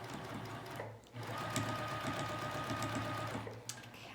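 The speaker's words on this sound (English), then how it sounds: "You can do that as well as you're sewing around that waistband." A sewing machine runs steadily, topstitching around a waistband casing meant to hold elastic; the motor hum and rapid needle clatter continue nearly unbroken, close and fairly loud, with one brief pause.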